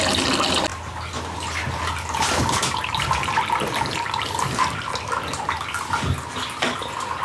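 Liquid mash for baked apple bourbon running out through a valve, a continuous gushing, splashing pour that stays fairly even, close by with no talk.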